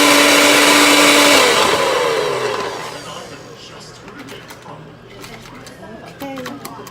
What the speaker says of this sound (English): First, the blender wasn't working, but now it does work.